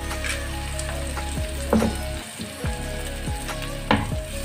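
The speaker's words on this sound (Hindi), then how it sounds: "प्याज को अच्छे से भून लेंगे" Onions with red and green chillies frying in a pan for a bhindi peanut masala, loud close crackling sizzle over a low hum, with intermittent spatula scrapes and clatters, no talk.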